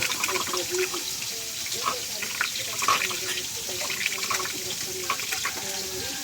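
Water runs from a tap, a steady splashing stream heard close by throughout, with some clinks and a voice speaking over it.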